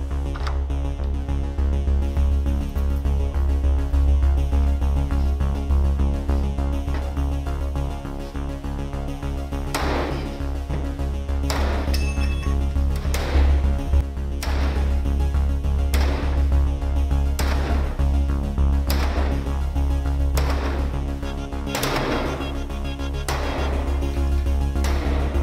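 Repeated sledgehammer blows against a classroom door secured with a Nightlock lockdown device, about ten sharp impacts spaced a second or two apart over a steady low hum.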